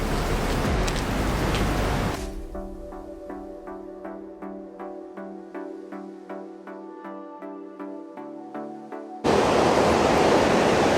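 Big waterfall at a dam roaring as a loud broadband rush, cutting away briefly to a quieter passage before the roar returns.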